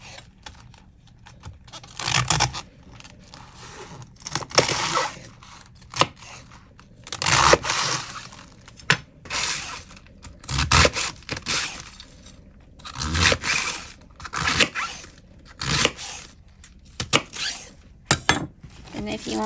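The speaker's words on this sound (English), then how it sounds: "I just go through and just cut it in strips" A knife slices cabbage into strips on a cutting board, repeated crunchy cuts with scraping in an uneven rhythm, close and clear, with brief pauses between strokes and occasional talk.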